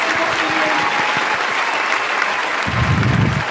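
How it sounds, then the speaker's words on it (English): Steady applause from a live audience at a talk show event in Aberfeldy, a dense wash of clapping throughout, with a low rumble of crowd movement near the end. "Let's get a round of applause for Lewis."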